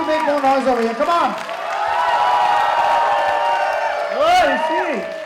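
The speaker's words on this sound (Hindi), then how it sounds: "हर्षित के लिए जोरदार तालियां, ladies and gentlemen. No, you all have to make more noise over here." An auditorium audience applauding and cheering for a performer at a World Down Syndrome Day event, a sustained wash of clapping and crowd noise swelling in the middle, with someone talking loudly over it at the start and end.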